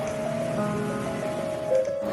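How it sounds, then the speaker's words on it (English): Heavy rain falls at night in Italy, a steady, dense wash of drops close around, with a faint tonal hum running beneath it. "Italy is raining heavily tonight."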